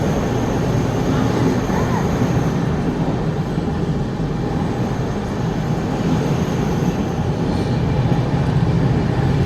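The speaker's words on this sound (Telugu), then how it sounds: "మన ట్రైన్ తుని నుంచి అయితే బయలుదేరిపోయింది." The Prashanti Express pulls out of Tuni station with a continuous low rumble and rattle of rail cars. The noise is steady and fairly loud throughout, heard from on board, with faint background voices.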